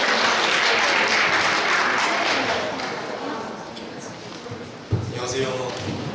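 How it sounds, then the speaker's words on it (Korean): A large audience applauds steadily and loudly at a Korean speech contest for deaf-blind and visually impaired people, the clapping dense and sustained before gradually thinning, with a sharp knock near the end. "여러분 큰 박수 부탁드립니다."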